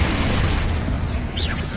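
A Bombarda explosion spell in Hogwarts Legacy, a loud, close booming blast with a rumbling burst that fills the short moment.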